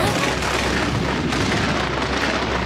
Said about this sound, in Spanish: ¿Qué son estos relámpagos? Es muy extraño. No parece un fenómeno natural.